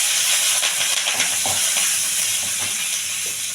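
Green chilies drop into hot oil with golden-browned urad dal for a banana stem poriyal tempering, giving a steady, loud, close hiss and sizzle that holds for several seconds without any voices.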